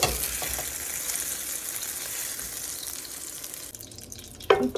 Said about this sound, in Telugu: చూడండి ఫ్రై అయిపోయింది